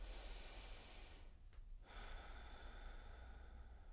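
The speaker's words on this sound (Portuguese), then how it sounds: "Inspire pelo nariz. Solte o ar pelo nariz e sinta a sua barriga fazendo a movimentação da respiração." Slow, soft breathing in and out through the nose during a guided relaxation exercise, faint and close, with a long airy inhale, a brief pause, then a gentle exhale.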